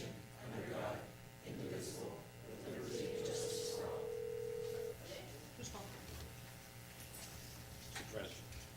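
A phone rings with a steady electronic tone during a city council special meeting in a chamber, sounding moderately loud and sustained for about two seconds while several people talk around it.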